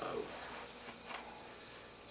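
Steady high-pitched insect chirping, crickets trilling continuously and fairly faint against a quiet background.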